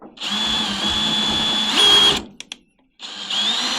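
A power drill drives a bolt through pre-drilled holes to join panels of a foldable solar porch on a shipping container home. The close, loud whine rises in pitch near the end before a short stop and a second burst.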